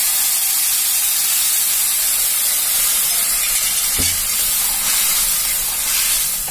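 Boiled chana dal poured into a pan of hot tempering with asafoetida, giving a steady loud hiss and sizzle throughout, with a brief thud as it lands partway through.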